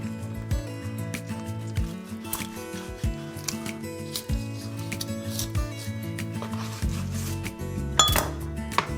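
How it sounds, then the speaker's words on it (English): Osceola wild turkey meat is cut into pieces to fit a crock pot, with close knife clicks, snips and rubbing on a board, plus a few clatters of kitchenware, all without talk. "I'm going to cut this down so it fits better in my crock pot"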